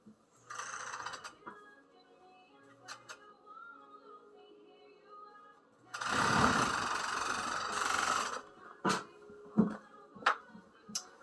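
A home sewing machine stitches a fabric strip across the crotch piece of bloomers, with quiet mechanical whirring and ticking at first, then a louder burst of fast stitching midway, followed by short clicks and thumps.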